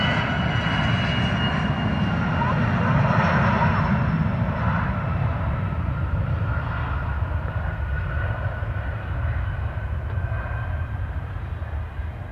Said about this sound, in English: It's an XO jet.